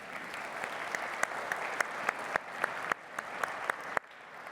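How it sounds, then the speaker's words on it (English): A church congregation clapping together, a steady, moderately distant wash of applause with a few sharper individual claps, tapering off near the end. "Let's give them a round of applause."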